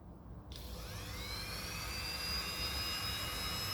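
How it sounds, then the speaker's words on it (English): Dremel rotary tool fitted with a grinding disc, chipping epoxy on a glass flower, spins up with a sudden start into a steady high-pitched whine that continues throughout, fairly quiet and alone. "I've got my Dremel all rigged up."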